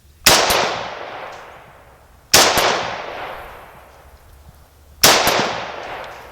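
Three loud, sharp rifle gunshots from a Mini-14 at an outdoor range, each followed by a long echoing decay, spaced about two seconds apart.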